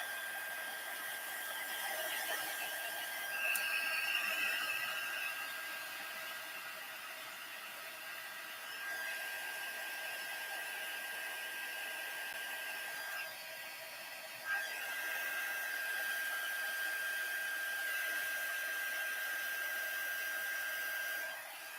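A hair dryer blows steadily on a freshly stamped craft project with embossing powder, a continuous whirring rush that stays even and moderately loud throughout, briefly dipping and resuming partway through.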